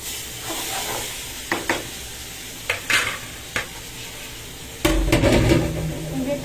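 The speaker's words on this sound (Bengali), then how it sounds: "আরো ইলিশ মাছটা এখন ভেজে নিচ্ছি এরকম করে" Hilsa fish frying in a pan for Bengali hilsa pilaf, a steady close sizzle with scattered clinks of a spatula, growing louder and crackling harder near the end as the fish is turned or pressed.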